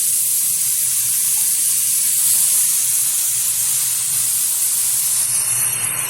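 Goat fat sizzles steadily in a hot pan with chilli powder while mixed ghugni is cooked, a dense continuous hiss that stays loud and even throughout, with no voices.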